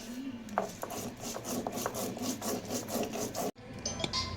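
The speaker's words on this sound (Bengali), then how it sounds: "এটা হলো আদা জিরেটা আমি বেটে নেব" Ginger and cumin being ground into a paste for stuffed pointed gourd: steady, rhythmic scraping and rubbing strokes close by, broken by a brief pause near the end.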